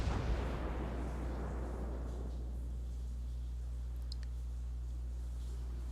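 The battleship Fuso fires a gun barrage in a naval video game: a heavy, distant boom opens the clip and rolls away into a low, steady rumble, with a few faint ticks later.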